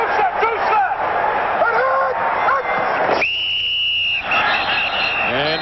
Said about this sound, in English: And a whistle, and that normally indicates a penalty on the offense.